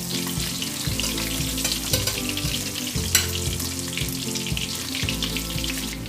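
Potato and brinjal pieces frying in hot oil, a steady close sizzle with a broad hiss throughout and soft clinks of the pan, with no voices.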